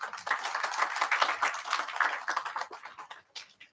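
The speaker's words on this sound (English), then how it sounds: "Please once again give a huge round of applause for Dr." An audience at an international law conference applauds, a dense, fairly close patter of many hands clapping that fades out toward the end.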